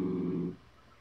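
Dogs growling while playing with each other indoors, a low, rumbling growl close by for about half a second before it breaks off into quiet room tone.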